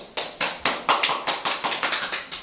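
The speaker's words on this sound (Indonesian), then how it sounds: "Beri tepuk tangan kepada kelompok 2." Classmates give a student group a short round of hand clapping, a dozen or so distinct, fairly close claps in an uneven rhythm from a small group, with no talking over it.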